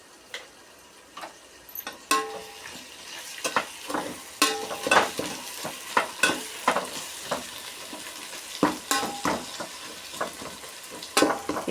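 Tomato with salt being stirred and fried in a pan for mushroom biryani: repeated close scraping strokes of a spoon at an irregular rhythm over a soft sizzle, with no voices.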